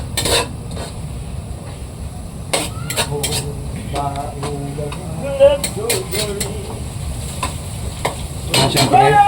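Onion and garlic sauté in a pan, a steady sizzle broken by repeated metal utensil scrapes and clinks against the cookware, close and fairly loud, with brief bits of voice.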